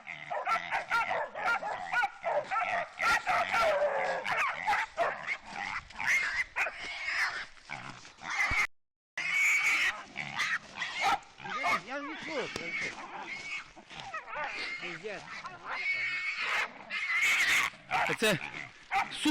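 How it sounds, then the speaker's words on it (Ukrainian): A litter of hunting-dog puppies yip and bark continuously near a boar, their high, busy chorus close by and mixed with people talking over them outdoors. "це вони гавкають"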